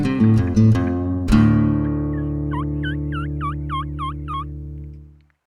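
A glass turkey call produces a sustained reedy tone with a few sharp chirps at first, then a quick run of rising yelps before fading out, close and clear.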